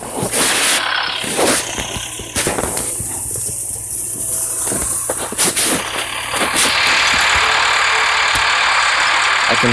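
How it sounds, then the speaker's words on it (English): A tractor engine in the Farming Simulator 14 video game hums steadily throughout, loud and continuous, with intermittent clicks and bursts layered on top. "I can hear the tractor."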